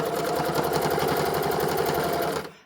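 A sewing machine stitches a fleece headband in one steady, close, rapid run of needle strokes, then stops abruptly near the end.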